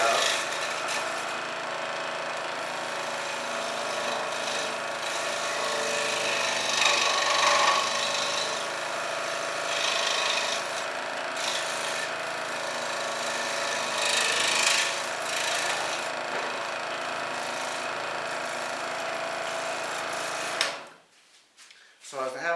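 A saw blade cuts a hole in an epoxy-sealed plywood coffee cup, giving a steady, loud, buzzing power-tool drone for about twenty seconds before it abruptly stops.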